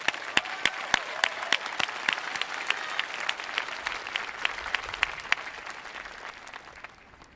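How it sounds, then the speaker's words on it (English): Audience applause at an MBA commencement ceremony for the Jones Graduate School of Business, a steady round of many hands clapping that carries on for several seconds before thinning and fading out at the end. "Let's give them all a final round of applause."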